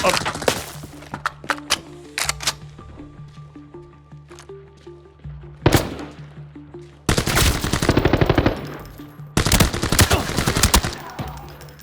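Gunfire in the shooter game Arena Breakout Infinite: scattered single shots give way to long rapid automatic bursts, loud and close, with game sounds between.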